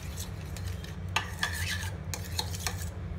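A spoon scrapes and clinks against a bowl while stirring a smooth paste made with vinegar for a cucumber salad, giving a few quick, close strokes with small metallic taps.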